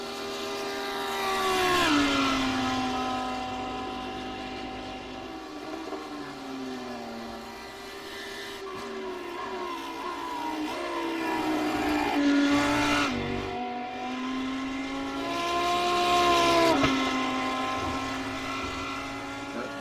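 GT3 race cars lapping Imola, engines howling and rising through the gears, then dropping pitch on downshifts and swelling again as the cars pass, loud and near, with little talk.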